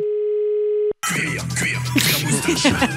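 A steady telephone dial tone hums alone for about a second as a call is placed, then cuts out into a lively backdrop of music and chatter from a French radio or TV studio, with voices talking over it.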